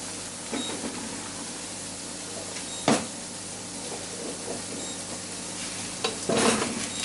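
Roasted potatoes sizzle softly in a hot oily pan as they dry off, with a spoon or spatula scraping and stirring in a couple of sharp bursts over the faint, steady fry.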